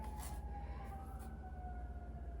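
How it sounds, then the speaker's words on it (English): A siren wails faintly in the distance, its tone sliding slowly downward over a low, steady hum. "Hear the sirens in the background?"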